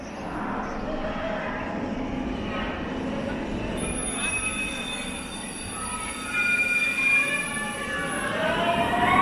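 A B&M roller coaster train at Parque Warner Madrid, opened 2002, rumbles away from the station, its wheels squealing and screeching louder as it moves, with faint voices in the background.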